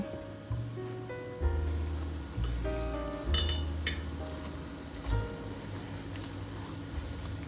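Apple cider donuts fry in hot oil with a steady sizzle. The bubbling swells as pieces are turned, and occasional light clinks ring out. No one speaks.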